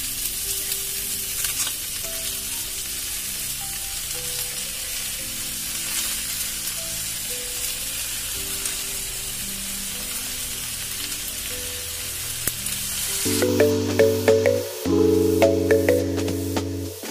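Leafy greens hit a hot pan of frying eggplant and potato, a constant loud sizzle and crackle close up, followed near the end by louder clattering as the greens are tossed in and stirred.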